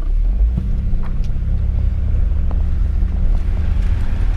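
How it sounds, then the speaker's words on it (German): A car engine idles steadily, a low continuous rumble close by, with some wind buffeting and a few faint clicks over it and no talking. "Der Wagen läuft und lief die ganze Zeit."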